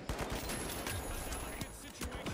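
Rapid gunfire bursts from a first-person shooter match in The Finals, with sharp cracks and volleys firing in quick succession at a steady loud level, overlapping one another throughout.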